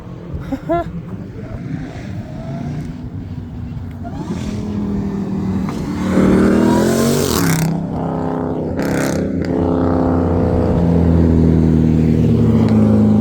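A car engine revs hard and loud at a car show at an autoplex, its pitch climbing and then holding a steady roar, with people talking over it close by.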